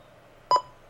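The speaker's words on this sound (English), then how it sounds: "Pay no attention to that loud beeping noise." A single short loud electronic beep during an N64 game marathon stream, sharp and brief against a quiet hum.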